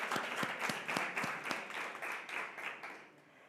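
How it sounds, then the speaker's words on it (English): An audience at a Women4IT panel event claps in a short burst of distinct, fairly close handclaps that thin out and fade within a few seconds. "Let's give it a round of applause."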